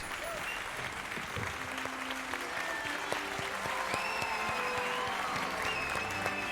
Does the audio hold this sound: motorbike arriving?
no